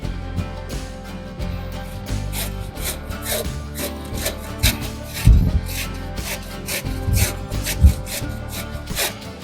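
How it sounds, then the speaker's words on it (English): A head of cauliflower being grated or shredded into rice-like bits for a low-carb dish, a steady close rasping and rubbing with irregular heavier scrapes and knocks throughout. "Now we've finished shredding up this head of cauliflower."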